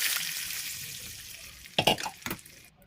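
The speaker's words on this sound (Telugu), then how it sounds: "ఇప్పుడు ఈ పోపు వేసేసుకుందాం." A burst of sharp crackling sizzle as hot spice tempering is poured into chukka kura chutney, a few loud spits near the end after a hissing background.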